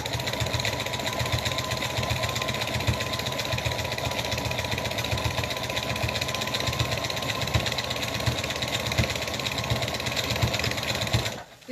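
A sewing machine stitching a decorative pattern on a Christmas stocking, a steady, fast mechanical whirring and clatter running continuously at close range, stopping abruptly at the end.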